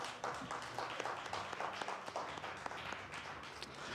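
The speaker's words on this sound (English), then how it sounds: "A big round of applause for Captain Jyotsna." Audience applause for a panel speaker at a career event, steady dense clapping from a crowd heard fairly faintly at a distance, with no talk over it.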